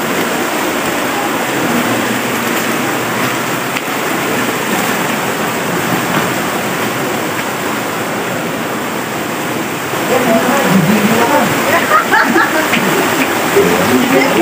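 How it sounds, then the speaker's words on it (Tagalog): A creek rushes loudly and steadily as people wade across it on foot during a mountain trek to visit Whang-Od, and the water grows louder toward the end, with faint voices underneath. "Tawid-tawid lang tayo ng sapa"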